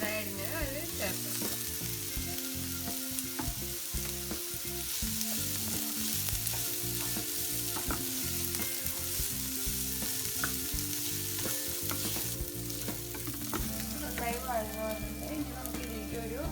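Chopped capsicum frying in a pan for dry chilli gobi, a steady close sizzle under continuous music with layered tones, no voices over it.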